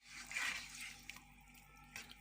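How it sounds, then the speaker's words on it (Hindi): Boiled dal poured from a pot into cooked masala in a home kitchen: a short, close liquid gush and splash, followed by a few faint drips. "अब ये जो मैंने दाल उबाइल की थी अब मैं ये इसमें ऐड करने लगी हूँ।"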